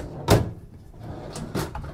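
A drawer sliding open with a short scraping rush, followed by a second drawer movement and a soft knock, close and moderately loud with no talking.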